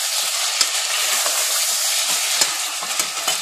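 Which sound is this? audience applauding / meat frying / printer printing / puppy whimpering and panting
meat frying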